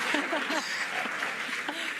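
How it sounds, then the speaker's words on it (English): Spectators at a SpaceX Crew-10 rocket launch clap and cheer, a busy continuous applause with scattered shouts and voices mixed in, moderately loud throughout. "the crowd is going wild"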